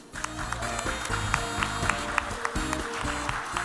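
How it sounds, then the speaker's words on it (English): A short burst of applause from a crowd at a Seoul youth climate town hall meeting, dense clapping mixed with some background music and murmur. "Please give another big round of applause to Director Im Hyun-mook and Team 5."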